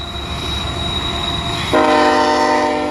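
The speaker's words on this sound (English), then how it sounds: "Here's a train." Freight train passing on railroad tracks at Cajon Pass, a loud close rumble with a sustained horn-like tone that swells into a dense chord partway through, no talking.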